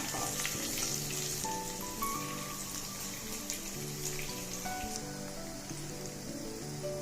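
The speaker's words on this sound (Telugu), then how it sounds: "మీడియం ఫ్లేమ్ మీద దోరగా వేగనివ్వండి తాలింపు" Dried red chilies and crushed garlic fry in oil with a pinch of turmeric over medium flame, a soft, steady sizzle with fine crackles and faint background tones.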